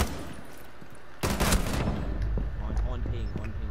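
Gunfire from Rainbow Six Siege breaks out as a sudden loud burst of shots midway, followed by game noise and a few quieter thuds, with voices talking in the background.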